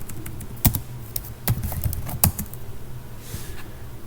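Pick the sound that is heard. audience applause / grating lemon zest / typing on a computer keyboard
typing on a computer keyboard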